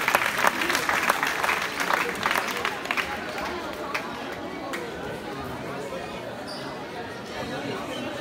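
A crowd at a handball club's season presentation applauds the under-19 boys' team; loud clapping at the start thins out into a murmur of chatter and shuffling in a large, echoing hall.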